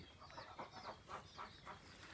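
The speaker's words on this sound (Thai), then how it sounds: "เสียงเป็ดนะครับ" Repeated quacking calls from a few ducks at a moderate distance on a rice-field farm, coming in an irregular series of short bursts with no one talking.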